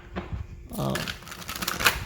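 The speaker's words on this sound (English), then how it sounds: "So let me get a good shuffle, because I don't want the dominant energy to be one from a previous pile." A deck of tarot cards is shuffled by hand, giving a quick riffling flutter of paper edges, close and fairly loud, with a short spoken bit at the start.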